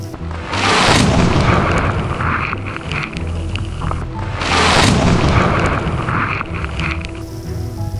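Two huge booming blasts a few seconds apart in a valley, each rolling out into a long echoing rumble that fades slowly.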